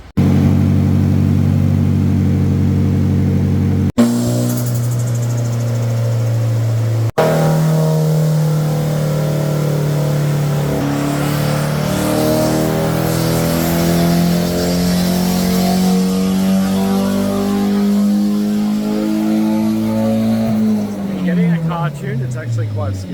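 A Nissan 180SX engine runs during ECU tuning at a tuning shop, idling, then holding high revs and slowly climbing in a long, loud pull before dropping away at the end, with voices at times.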